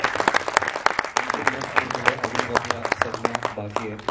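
An audience at a Marathi film event claps for the co-actors, lively uneven applause with sharp nearby claps while people talk and call out over it.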